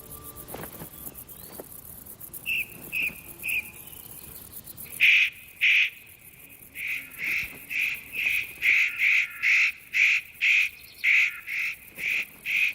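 A spotted nutcracker, a crow-family bird of the stone pine forests, gives a long series of short, harsh, evenly spaced calls, about a dozen in quick succession, moderately close against a quiet outdoor background.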